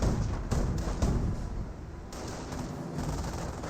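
Gunfire from Panzer Grenadiers in the World War II strategy game Company of Heroes, a rattle of rifle and automatic bursts at moderate volume with a few heavier low thumps, heard as a continuous fusillade.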